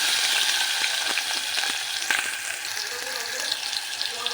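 Onion frying in hot oil with mustard seeds and cumin, a steady close sizzle with scattered sharp crackles and pops throughout, no talking.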